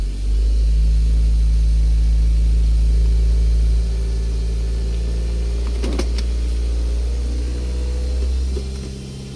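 A car engine idles steadily while warming up before an automatic transmission fluid level check, a loud low rumble throughout that eases slightly midway, with a few brief clicks and no speech.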